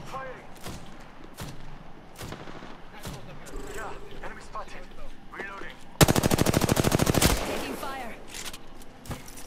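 Rapid automatic gunfire in Apex Legends, with scattered single shots and a dense, loud sustained burst partway through, while players talk.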